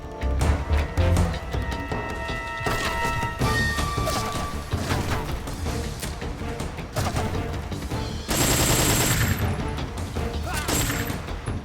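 Gunfire from Metal Gear Solid 3 shooting at a bridge, a dense run of cracking shots and crashing impacts over game music and clatter, with a louder burst near the end.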